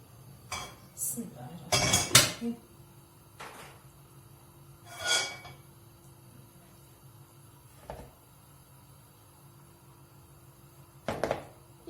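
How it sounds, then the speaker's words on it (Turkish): Dry onions tumble into a metal pot with a clattering clink, followed by a few scattered knocks and scrapes of cookware in a quiet kitchen. "soğanımızı atıyoruz tenceremize"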